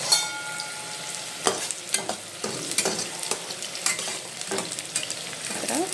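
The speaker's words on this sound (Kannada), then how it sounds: "ಈರುಳ್ಳಿ ಹಾಕಿ ಈಗ ಫ್ರೈ ಮಾಡ್ಕೋಬೇಕು" Onions fry in a pan with a steady close sizzle, while a spoon scrapes and clatters against the pan in irregular stirring strokes.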